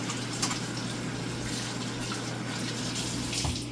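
Running tap water pours steadily into a kitchen sink while hands are washed, a continuous close rushing hiss with a low hum beneath and a brief splashy change near the end, no talking.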